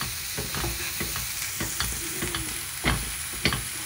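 Veal and shallots sear in a hot pan with a constant crackling sizzle, broken by soft scraping stirs and a few sharper utensil knocks.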